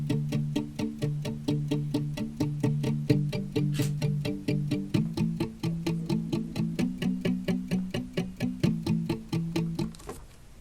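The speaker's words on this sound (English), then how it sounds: "and this one is acoustic guitar muted licks." Muted fifths licks on acoustic guitar, short palm-muted plucks in a steady ticking rhythm with shifting two-note shapes, close and dry, no talking.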